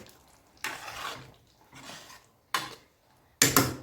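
Mushrooms with a little water are stirred in a pressure cooker pot, four separate bursts of scraping and sloshing with short quiet gaps, close and moderately loud, with no talking.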